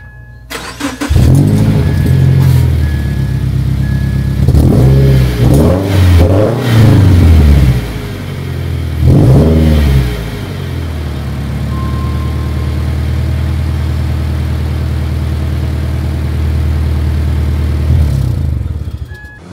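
A Subaru Crosstrek fitted with a Nameless axleback exhaust cranks and fires up, then gives several sharp throttle blips and revs before settling into a steady, rumbling idle, loud and close with no talking.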